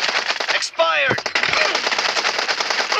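Rapid automatic gunfire rattles continuously through a team deathmatch video game, dense and loud, with a brief voice callout cutting in near the start.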